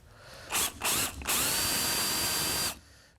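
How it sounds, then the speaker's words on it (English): A power drill drilling out rivets on a 1967-72 Chevy pickup vent window whines in two short bursts, then runs steadily for over a second before stopping, loud and close, with no one speaking. "And I think I got a little bit more drilling I got to do on this one."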